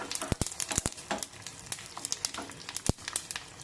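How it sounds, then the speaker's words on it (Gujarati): Sesame seeds splutter in hot oil with curry leaves and green chillies, a quiet run of sharp crackles and pops at an uneven rhythm, close to the pan. "જો તલ ફૂટે છે તો હવે તેમાં આપણે હળદર નાખશું"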